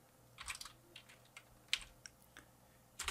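Typing code on a computer keyboard: a quiet run of separate key clicks with short pauses between them, no voices.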